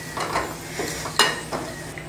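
Cashews and raisins roast in ghee in a pan for carrot rava laddu, giving a soft, steady sizzle broken by a few scraping stirs of a utensil against the metal.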